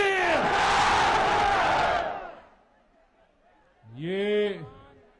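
At an outdoor Pakistan Tehreek-e-Insaf political rally in Abbottabad, a large crowd roars a slogan in unison for about two seconds, then after a short pause a single amplified voice calls out loudly.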